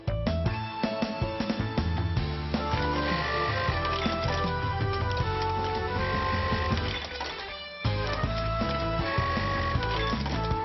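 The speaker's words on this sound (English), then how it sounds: "this computer-controlled machine not only flexibly responds to many different types of sewing specifications, but also performs cycle sewing using different sewing patterns" A Juki LK-1903 computer-controlled lock-stitch button sewing machine runs steadily in rapid mechanical cycles, close and continuous, with a short dip in level near the end before it resumes.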